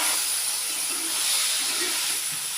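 A tablespoon of water hits a hot pan of sautéed snake gourd, giving a steady, loud broadband hiss and sizzle that holds throughout.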